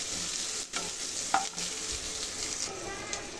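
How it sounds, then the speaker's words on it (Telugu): Onions fry in hot oil in a pan for a chicken fry, giving a steady close sizzle. A spoon scrapes and stirs through them now and then. "ఆనియన్స్ గోల్డెన్ బ్రౌన్ కలర్ వచ్చేంత వరకు ఫ్రై చేసుకుందామండి"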